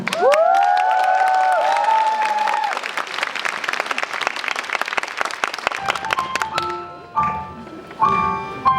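Audience applause and cheering at a pop concert fill the clip with dense, loud clapping and shouts from the crowd, then thin into scattered claps as music and sustained tones come in.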